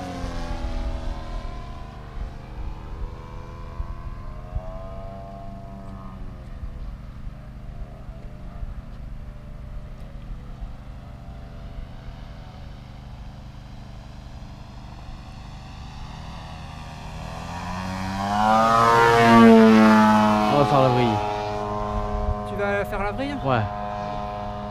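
Extra 330 SC aerobatic plane making a night low pass over the runway, its engine drone swelling from distant to loud as it sweeps past and then fading, with people talking over it.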